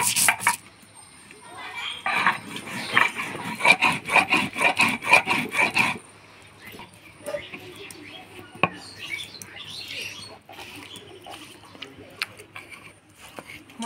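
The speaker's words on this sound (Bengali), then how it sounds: "ধইনা আর আদা একসাথে বাইটে নিব।" Coriander, ginger and ripe chili are ground together on a grinding stone with rhythmic, close rasping strokes. The scraping then grows sparser, with faint bird chirps in the background.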